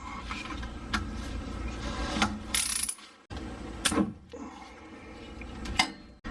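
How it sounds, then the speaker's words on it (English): A ratchet works on the drain bolt of a Lexus rear differential, giving bursts of clicking mechanical turning with short pauses and a few sharper metallic knocks, close and without speech. "Now we're going to do the drain bolt."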